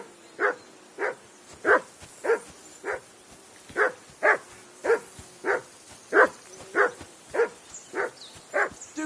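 A hound in Kingdom Come 2 barks repeatedly at a steady rhythm, about fifteen loud, close woofs evenly spaced with no one speaking between them.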